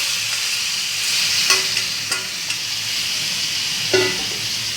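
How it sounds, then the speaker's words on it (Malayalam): Chicken already cooked in its gravy is stirred into a sizzling masala for a dry roast, a steady bright hiss of frying with a few scraping stir strokes, close and alone without talk. "നന്നായി നമുക്കൊന്ന് മിക്സ് ചെയ്ത് കൊടുക്കുക."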